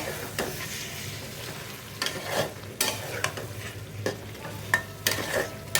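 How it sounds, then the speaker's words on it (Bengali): Prawns and Malabar spinach being stirred and sautéed in a pan: a low steady sizzle broken by repeated sharp spatula scrapes and knocks at an uneven rhythm, close and clear, with no talk. "পুঁই শাক দিয়ে আমি ভালো করে নেড়ে চেড়ে আবারও কিছুক্ষণ কষিয়ে নেব"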